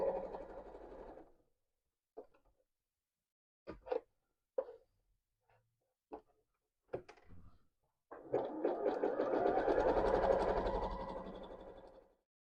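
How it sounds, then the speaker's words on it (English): A sewing machine zigzag-stitches along the edge of fabric layered with Solufleece stabilizer, holding a steady, moderately loud whirring run of about four seconds after a few short isolated clicks and handling noises. "I'm going to carefully just zigzag stitch all the way along."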